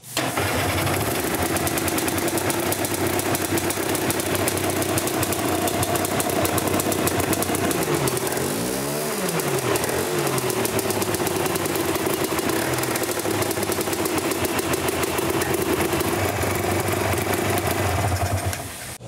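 A small two-stroke hovercraft engine, run on a rich oil mix, runs steadily and loudly throughout, its buzzing drone briefly revving up and down near the middle before settling back.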